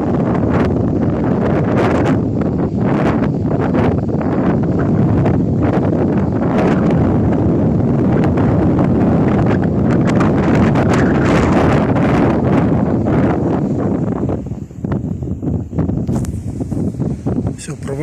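Strong wind buffets the microphone on a white-sand beach in Brazil, a loud, continuous roar with gusty surges that eases slightly near the end, with no speech over it.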